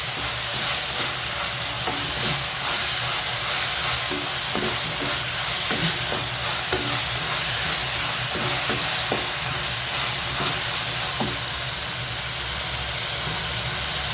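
Chutney ingredients, coriander and curry leaves among them, sauté in a hot pan with a steady close sizzle and hiss, broken by soft scrapes and stirring taps, and no voices.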